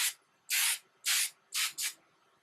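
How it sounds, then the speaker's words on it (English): Tresemme extra firm hairspray aimed at hair, four short hissing bursts at close range, the last two in quick succession, with quiet pauses between them and no talking. "I'm using the Tresemme Tray 2 hairspray, and it's the extra firm control"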